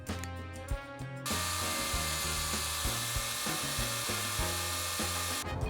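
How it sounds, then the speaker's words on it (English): Hand sanding a Ford brake light switch bushing with 80-grit sandpaper, a steady close scratchy rubbing with rhythmic back-and-forth strokes that runs continuously through most of the stretch, with no talking. "You can sand this down by hand with some 80 grit."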